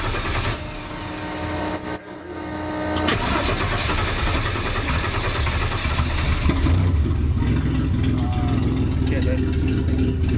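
A garage car engine catches on the third pump of the throttle, then settles into a loud, rough idle with repeated revving. Voices talk over it.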